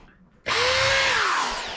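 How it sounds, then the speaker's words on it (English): Power drill boring a hole in a wooden board while framing a shower valve and whirlpool bath in a bathroom renovation; the motor bursts on loud and close after a quiet moment and whines steadily, its pitch sagging toward the end. "drill a hole in the board"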